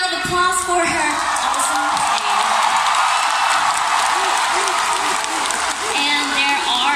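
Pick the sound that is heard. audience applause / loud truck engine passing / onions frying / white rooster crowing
audience applause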